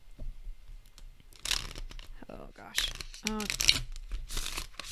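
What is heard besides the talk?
shuffling a stiff tarot card deck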